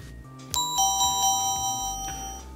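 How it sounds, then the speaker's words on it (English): A SmartThings door chime, its first chime tone, rings a clear electronic ding-dong: a sharp struck note followed by a second, each leaving sustained ringing tones that fade slowly, heard alone. "We're going to start with chime one."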